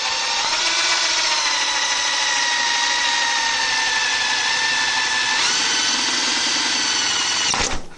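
A power drill whines continuously at high speed, close and loud, shifting pitch partway through before cutting off abruptly at the end.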